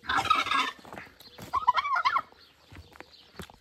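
A turkey gobbles close by in a couple of loud, rapid warbling bursts separated by brief pauses, with scattered quieter clucks between them.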